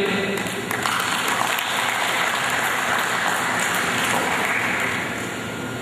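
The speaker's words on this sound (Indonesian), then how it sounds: "Boleh tepuk tangan adik-adik." Children clapping at a Christmas celebration, a steady, dense applause that holds throughout and tapers slightly at the end, with faint voices underneath.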